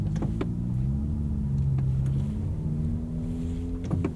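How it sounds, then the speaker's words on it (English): A steady low engine rumble with a raspy, throaty drone from an exhaust leak, heard from inside a running Ford EcoSport, holding fairly constant throughout. "It's an EcoSport with an exhaust leak already."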